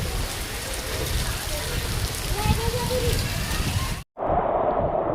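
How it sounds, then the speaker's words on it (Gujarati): Heavy winter rain pours down at night in a steady, dense hiss close by, cutting out for a moment near the end before resuming just as strong. "ભર શિયાળે વરસાદ, ફૂલ વરસાદ પડે છે"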